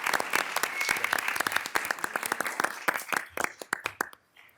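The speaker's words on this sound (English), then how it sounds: "I think Becky deserves a big round of applause for that honor" Applause from a modest audience at a municipal work session on tourism, individual claps distinct in a lively patter that thins into scattered last claps and stops near the end.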